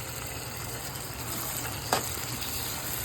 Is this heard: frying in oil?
yes